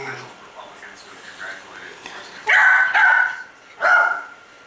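Dogs bark from a video playing back, with several loud yapping bursts in the second half over faint background chatter and whispery voices.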